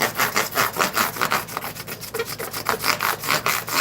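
Guitar frets being rounded with 600-grit sandpaper wrapped on a body shop squeegee: quick, rhythmic back-and-forth rasping strokes, close and fairly loud, with no talking.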